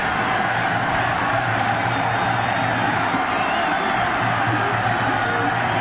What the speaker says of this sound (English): And you hear the crowd here